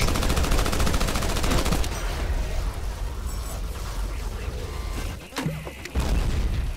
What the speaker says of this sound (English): It's a machine gun and it's large.